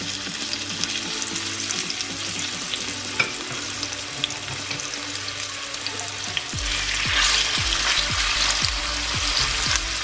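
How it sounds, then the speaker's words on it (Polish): Meat sizzles loudly in hot melted lard, a steady crackling fry close by, growing busier midway with bursts of spitting and occasional clinks; floured pork shoulder or neck pieces browning for goulash. "Następnie na rozpuszczonym tłuszczu smażę mięso."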